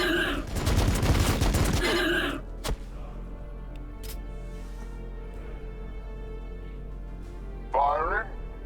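Blood Angels units in the Battlesector game open fire: a dense, loud burst of gunfire for about two seconds, a sharp single shot after it, then a quieter stretch with a brief crackling volley near the end.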